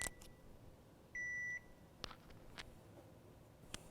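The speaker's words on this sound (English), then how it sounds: "That is a kitchen timer." A kitchen timer gives a single short, clear electronic beep, moderately loud against a quiet kitchen background with faint scattered clicks and knocks.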